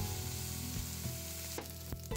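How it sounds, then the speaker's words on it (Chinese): Cowfish pieces frying in oil in a pan sizzle steadily and closely throughout, with a few soft knocks and scrapes as the fish settles and turns. "再慢慢煎多阵啦"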